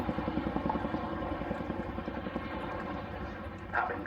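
Chinook twin-rotor helicopter flying at the Cosford air show, a faint, steady rhythmic rotor thumping with engine drone, heard from a distance under a commentator's voice.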